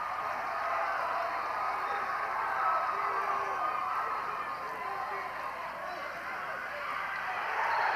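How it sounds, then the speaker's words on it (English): A basketball crowd at a college game between Holy Cross and Sacred Heart roars after a blocked shot, a broad, sustained cheer filling the arena at steady loudness with an indistinct babble of voices running through it. "That got the crowd fired up."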